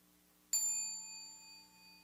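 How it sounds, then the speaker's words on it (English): A meditation bell is struck once after a half-second of quiet, ringing out clear and bright with a sustained, shimmering tone that slowly fades over the following seconds, heard alone without any voices. "Listen to the sound of the bell."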